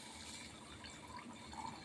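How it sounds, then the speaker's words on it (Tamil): Water is poured into a pan of roasted grapes and cardamom being cooked, a soft steady splashing and gurgling stream heard close but quietly throughout. "தண்ணி ஊற்றி"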